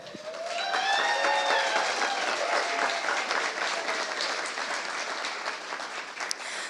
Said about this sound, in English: Leanne seems to have a big cheering section.